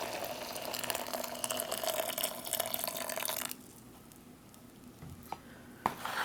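Water pours steadily into a Swedish freeze-dried ration pouch for about three and a half seconds, then stops, leaving a quiet pause broken by a few small rustles and taps.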